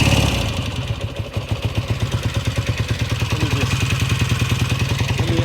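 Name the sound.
1967 Kawasaki W1 650 motorcycle engine idling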